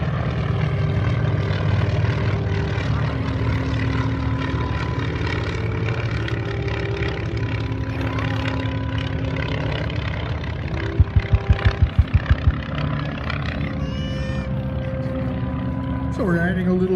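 A T-34 Mentor propeller trainer flies at the 2018 Miramar airshow. A steady engine drone and propeller hum carry on throughout, with shifting pitch as it passes, and crowd and PA sounds sit underneath.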